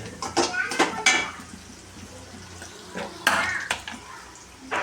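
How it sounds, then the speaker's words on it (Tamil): Ingredients for coriander thokku being sautéed in a pan, with repeated metallic scraping and clinking of a utensil against the pan in short bursts, close and fairly loud, with a steady low hum underneath. "நல்லா வதக்கிக்கோங்க"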